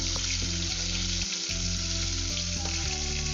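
Hilsa fish pieces frying in hot oil in a pan give a loud, continuous sizzle and crackle, with a brief dip partway through and occasional low clunks, with no talking.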